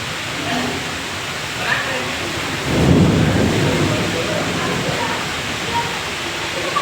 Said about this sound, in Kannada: ಮಳೆ ಬರ್ತದೆ ಫುಲ್